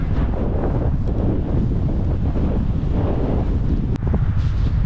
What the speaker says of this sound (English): We've got still wind coming off this way